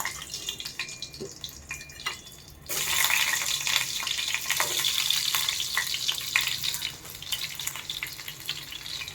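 Hissing, crackling fry of crushed garlic in hot oil that jumps louder partway through, with scattered clicks and taps, no voices.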